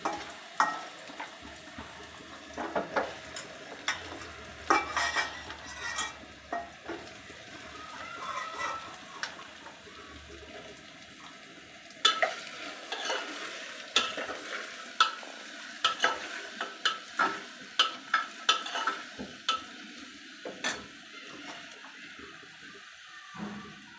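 Bottle gourd and potato pieces frying in oil on a low flame, with a steady soft sizzle broken by repeated scraping stirs and clinks of a spoon against the pan.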